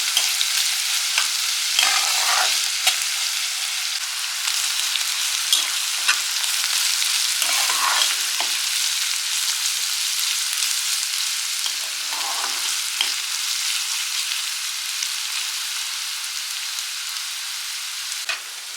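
Chopped onion sautés in a pan for stuffed brinjal masala, a loud, steady bright sizzle close by with occasional soft stirring scrapes and no talking.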